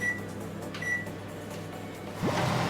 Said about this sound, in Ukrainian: гарбуз поміщаємо в мікрохвильову піч всього-навсього на 5 хвилин